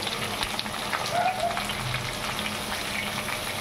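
Jackfruit, sweet potato, potato, tomato and pumpkin sizzle in oil in a frying pan, a steady soft crackling hiss with small pops, heard alone.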